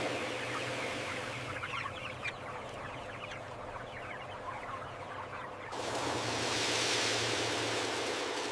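A large flock of chickens clucks in a climate-controlled poultry house, many overlapping calls over a low fan drone, with a louder broadband wash of ventilation noise taking over toward the end.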